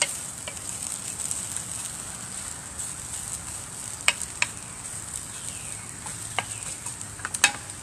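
Purslane and cheese wilting in a hot pan give a soft, steady sizzle, with a few sharp clicks and scrapes of stirring scattered through, close up and with no talk.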